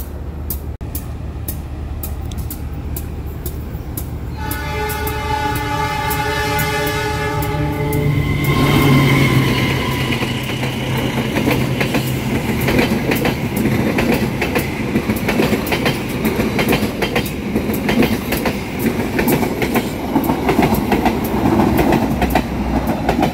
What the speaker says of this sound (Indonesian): Kereta api Argo Parahyangan sudah melintas di sini.